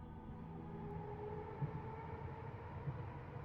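Quiet train ambience from the video game Eliza: a low, steady rumble of a moving carriage with faint rattles and occasional soft knocks, continuous and distant, with no talk.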